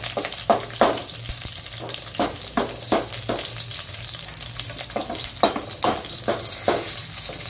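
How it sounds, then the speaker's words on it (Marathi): Four cut green chilies fry in a pan over a low gas flame, a constant close sizzle broken by repeated scraping strokes of a spoon against the pan. "बारीक गॅसवर एकदम मिरची चांगली भाजायची"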